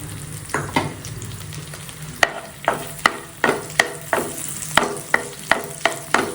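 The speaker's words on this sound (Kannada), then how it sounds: "ಬಟರ್ ಸ್ವಲ್ಪ ಕರಗಿದ ನಂತರ ಸೊ ಗಾರ್ಲಿಕನ್ನು ಹಾಕ್ತೀನಿ" Minced garlic fries in melted butter in a pan, a steady close sizzle broken by a regular run of sharp spatula scrapes and clicks as it is stirred.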